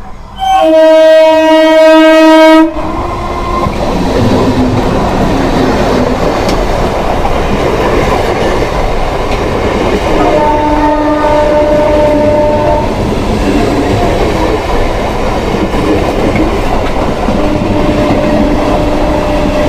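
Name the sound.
Kolkata Circular Railway train passing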